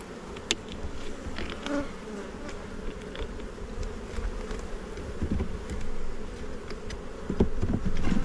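Honeybees drone continuously during an early April beehive inspection, a close, dense buzzing with individual bees passing nearer now and then, and no voices.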